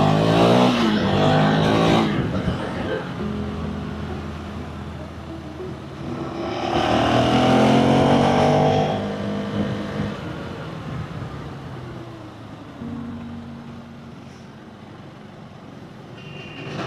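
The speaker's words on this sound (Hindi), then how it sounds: "मैं तो सोचा नहीं था भाई यहाँ इतना ट्रैफिक जाम।" Morning traffic jam with a line of vehicles on a road near Dongargarh, engines idling and rumbling past in waves, one louder vehicle swelling by midway, steady road noise throughout.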